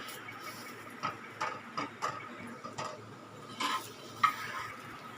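Egg paratha cooking on a pan after being flipped, with a faint, quiet sizzle broken by several soft taps and scrapes.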